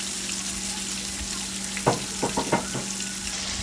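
Beef pieces frying in hot oil in a pan make a steady, close, bright sizzle, broken by a short cluster of knocks and clatters partway through.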